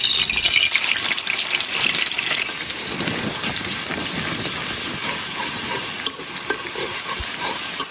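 Onion-garlic paste sizzles hard in hot oil in a wok outdoors in wind and rain, a loud, dense hiss close by with stirring scrapes and a few sharp knocks near the end.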